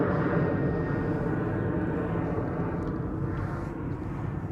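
A narrow-body airliner departing Amsterdam Schiphol Airport, its jet engines giving a steady, broad rumbling roar that holds loud and even throughout.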